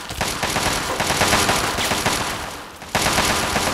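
Dense, loud automatic gunfire from a Fallout 3 battle, a continuous rattling barrage that briefly dips before resuming at full strength, with no voices over it.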